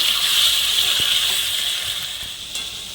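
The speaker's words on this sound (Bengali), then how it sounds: "হালকা জল অ্যাড করে নিচ্ছি" Water is added to half-boiled potatoes in a hot pot, giving a loud, steady hiss of steam that fades slightly toward the end.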